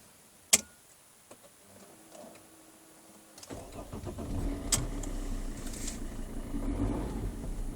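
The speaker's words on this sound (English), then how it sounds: "And that's the sound of the diesel when the vehicle is idle." Mercedes C270 CDI diesel engine cranks and catches after a sharp click, then settles into a steady, close idle with a gritty low rumble.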